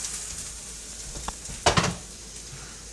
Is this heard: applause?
no